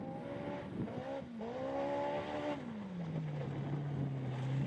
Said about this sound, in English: Listen to the engine of that thing